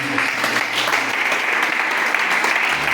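A church congregation applauds steadily and loudly throughout, a dense continuous clatter of many hands with no pauses.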